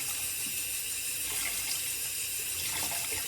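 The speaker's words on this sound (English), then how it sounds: "let me just rinse off this piece of art from Bobby Moffett" A tap runs steadily into a sink while a shaving brush is rinsed, a continuous close hiss of flowing water without speech.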